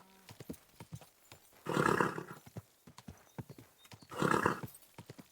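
Steady clip-clop of horse hooves walking at an even pace in the video game Kingdom Come: Deliverance 2, in town, with two loud bursts of a horse whinnying or snorting between the steps.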